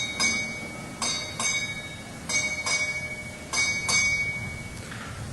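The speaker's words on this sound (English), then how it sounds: "Time orderly, strike 8 bells." Ship's bell struck eight bells at a US Southern Command change of command ceremony, four bright ringing pairs of strikes evenly spaced, clear and fairly close over a quiet background.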